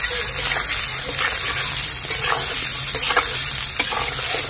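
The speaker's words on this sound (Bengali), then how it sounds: "খুন্তি দিয়ে কিন্তু আস্তে আস্তে নাড়তে হবে" Amla (Indian gooseberry) pickle stirred slowly with a spatula in a hot pan, giving a steady, close sizzling hiss with scattered soft scrapes and clicks throughout.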